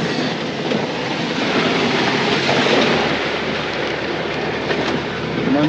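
A train in Madagascar rolls along with a steady, loud rumble and rail clatter that holds evenly throughout, with no talking.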